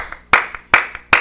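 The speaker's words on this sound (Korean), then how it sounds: "손뼉" Hands clapping in a steady rhythm at a worship service: three strong claps alternate with lighter ones, crisp and close, with no talk over them.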